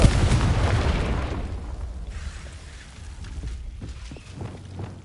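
A Confringo spell explodes in Hogwarts Legacy, a loud low boom at the start that rumbles and fades over a couple of seconds, followed by quieter game ambience and small clicks.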